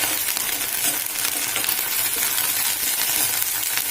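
Fenugreek leaves fry in a pan for a chutney, giving a steady, close, bright sizzle with faint crackles and a few stirring scrapes throughout.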